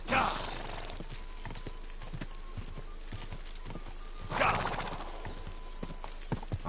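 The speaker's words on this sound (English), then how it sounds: "Right, this horse is better than Pebbles, but it's still shite." Horse galloping in the video game Kingdom Come Deliverance 2, rhythmic hoof clip-clops under a faint whinny, with a player talking over the steady hoofbeats.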